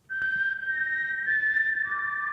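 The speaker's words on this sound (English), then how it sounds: "That's the Mockingjay whistle." The Mockingjay whistle from The Hunger Games, a sustained clear tonal whistle that holds one pitch and then drops to a lower note near the end, steady and fairly loud, with a faint background hum.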